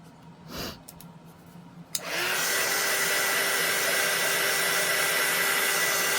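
A hair dryer switches on after a couple of seconds of quiet and then blows steadily and loudly up close, drying resin poured with alcohol inks, with a brief clack just before it starts.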